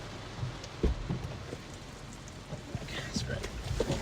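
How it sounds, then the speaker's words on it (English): Rain falling during a tornado emergency in Huntsville, Alabama: a steady, soft hiss of rain with scattered drip and tap sounds and faint murmured voices in the background. "It's still raining."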